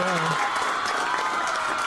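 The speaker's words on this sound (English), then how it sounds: "Thank you for the applause." A short burst of crowd applause plays as a live-stream sound alert, steady clapping with a faint tone fading at the start and some talk mixed in.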